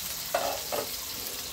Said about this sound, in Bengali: আমার পটলটাও মোটামুটি হালকা লাল ভাজা হয়ে গেছে।